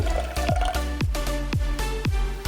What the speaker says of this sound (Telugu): అందులో కొద్దిగా వాటర్ వేయాలి